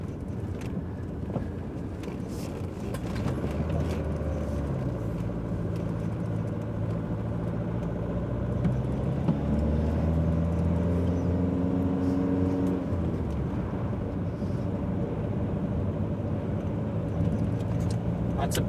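A small four-wheel-drive car drives along with a steady low engine rumble and road noise, shifting pitch as it changes gear, under continuous talking.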